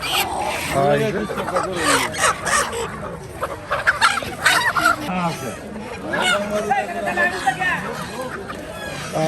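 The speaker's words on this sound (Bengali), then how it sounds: "এই যে দেখুন এদিকে কিন্তু একদম লাল লাল মোরগ কিন্তু প্রচুর লাল মোরগ দেশি লাল মোরগ" Native red roosters and ducks crowd a busy village poultry market in Mymensingh, with constant overlapping clucks, squawks and honks close by, while people talk throughout.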